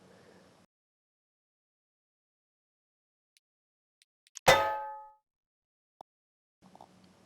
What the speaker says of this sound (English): So I went with dodgeball bounce